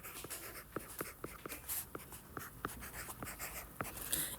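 Pen or pencil scratches on paper while SOHCAHTOA is written out by hand, coming as short, quiet, evenly spaced strokes in a steady rhythm, close and soft, with no talking.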